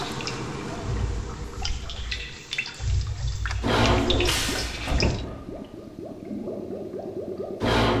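In the video game RealMyst, pumps drain water away with gurgling, squishy liquid sounds, sloshes and drips, moderately loud and fluctuating, alone without talk.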